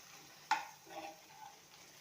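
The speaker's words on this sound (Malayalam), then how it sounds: "ഇനി ഇത് എല്ലാം കൂടെ ഒന്ന് ഇളക്കി യോജിപ്പിച്ചെടുക്കാം" A pan of aloo (potato) fry with masala spices and salt is stirred once, giving a sharp scrape at the start followed by a soft, fading sizzle and a few light spoon movements.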